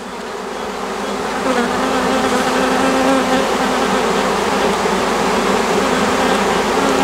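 A honeybee swarm clusters around its queen on a bending branch, a dense, loud, continuous buzz of many bees close by that swells slightly at the start and then holds steady.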